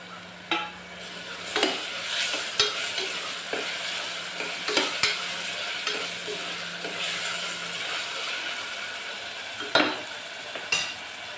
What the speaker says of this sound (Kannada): ಹಸೆ ವಾಸನೆ ಹೋಗೋವರೆಗೂ ಚೆನ್ನಾಗಿ ಫ್ರೈ ಮಾಡಬೇಕು